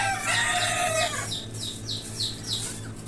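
Chickens on a small poultry farm make a drawn-out, crow-like call followed by a run of five or six short, sharp clucks, close by over a low hum.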